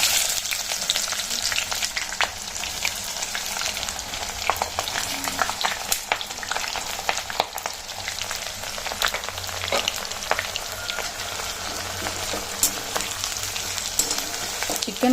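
Onions frying in hot oil with cinnamon, cloves and bay leaf, a dense, close and continuous crackling sizzle that stays loud and even from start to finish.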